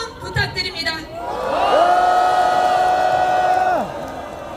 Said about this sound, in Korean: 여러분의 큰 박수와 함성 부탁드립니다